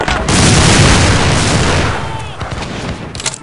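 Musket volley in the Battlegrounds 1.2.1 line-battle game: a loud, dense burst of many shots fired together, rolling into a crackling rumble that fades over a few seconds.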